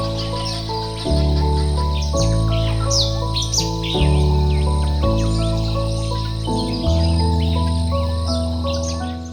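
Many birds chirp and trill in a quiet jungle park in the North Bengal hills, their bright, overlapping calls steady over a loud, low, droning tone that shifts pitch every second or so.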